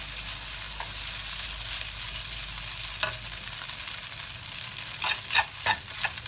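Hokkien mee noodles with eggs fry in a pan, a steady bright sizzle broken by scraping stirs that grow busier and more frequent toward the end.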